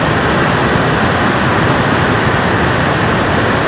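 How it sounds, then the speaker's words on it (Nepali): A small flood-swollen stream near a rock garden in Sardu rushes loudly and steadily, a dense close roar of water with no break and no voices. "यो सानो खोल्ची फेरि आएछ"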